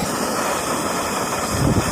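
Olicamp Vector camping stove burner opened all the way to full power, a steady close roaring hiss that holds constant throughout with no speech.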